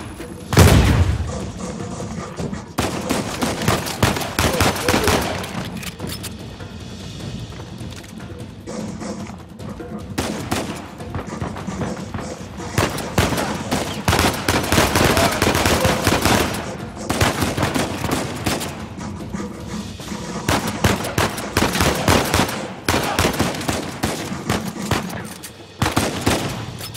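Rapid machine gun bursts and gunfire from a firefight in the video game Uncharted 4, loud and nearly continuous across the clip with dense rattling volleys and occasional booms, a brief lull midway.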